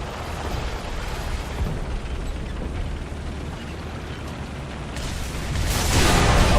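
Explosions and rumbling battlefield noise in War Thunder tank gameplay form a dense low roar that swells louder toward the end, with no talk.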